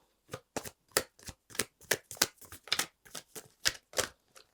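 Tarot cards being shuffled and drawn from the deck: a run of about a dozen crisp, papery riffles and slaps in an uneven rhythm, close and fairly quiet, with no talking.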